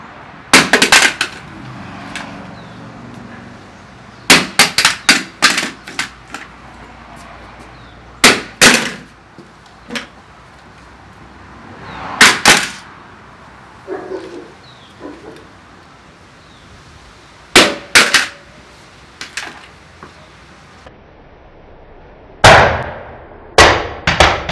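An Olight Baldr Pro R weapon light mounted on an airsoft pistol is dropped from shoulder height again and again: sharp hard clangs and clattering bounces on a hard floor, eight separate loud impacts with quiet pauses between.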